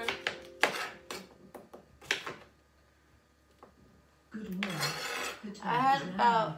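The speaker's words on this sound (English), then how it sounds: "just going to go ahead and cut up all the potatoes here" A knife cuts up potatoes for a slow cooker, giving sharp clinks and taps on a board with utensil and dish clatter. Scattered knocks come first, then a denser burst of clattering near the end.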